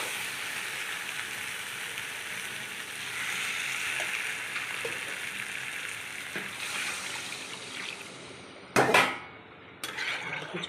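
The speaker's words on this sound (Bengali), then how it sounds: "এবার আমি জল দিয়ে দেবো।" Water is poured into a pan of well-fried spiced masala while Kashmiri aloo dum cooks, producing a sustained hissing rush, then a few sharp metallic knocks of the pan near the end.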